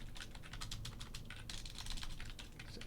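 Fairly quiet, rapid typing on a computer keyboard, with dense, irregular key clicks running continuously without pause.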